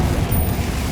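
A Confringo explosion spell bursts in Hogwarts Legacy, a loud, dense, low boom and rumble filling the whole brief moment.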